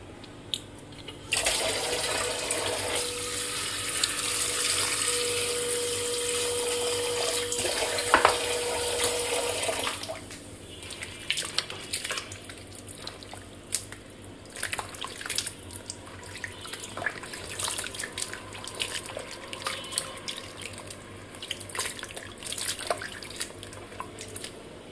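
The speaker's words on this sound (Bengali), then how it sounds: "এখন আমি এগুলো ভালো করে ধুয়ে নিব।" Tap water runs onto cut pieces of luna hilsa fish being washed, a strong steady stream for about ten seconds, then drips, splashes and handling noises as the pieces are rinsed.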